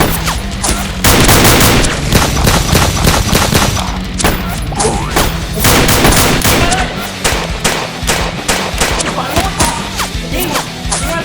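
Continuous rapid bursts of loud gunfire, machine-gun-like volleys and booms, fill a mock war game played with toy weapons, with a voice faintly calling out over them.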